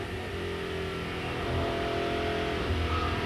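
TVR Tuscan race cars accelerating at Snetterton during the 1991 TVR Tuscan Challenge, a steady loud engine roar that swells slightly as they pass, with no commentary heard.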